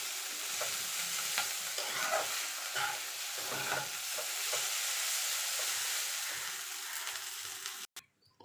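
Egg chowmein with ground black pepper is tossed and stirred in a hot pan, giving a close, continuous sizzle broken by repeated scraping strokes before it cuts off abruptly near the end.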